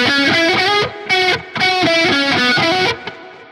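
Electric guitar chords played with heavy reverb and delay, loud and sustained, with short gaps between strummed phrases; no talking.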